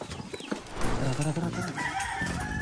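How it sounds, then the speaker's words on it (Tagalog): A rooster crows with a drawn-out, wavering call, somewhat distant, with a bit of faint background noise and no clear talking. "May mga manok din"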